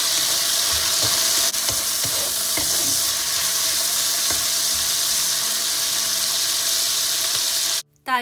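Chicken pieces, cooked for a chestnut chicken dish, sizzle loudly as they are stir-fried in a wok, a dense continuous frying hiss with faint scraping, cutting off abruptly just before the end.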